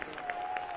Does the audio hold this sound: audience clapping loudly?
yes